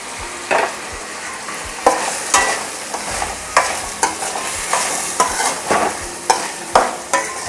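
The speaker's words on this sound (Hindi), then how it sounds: "इसके लिए हम हल्का सा इसे फ्राई करेंगे" Sweet corn and mixed vegetables are lightly stir-fried in a pan for a paratha filling. A spatula scrapes in regular strokes about every half second over a soft, steady sizzle.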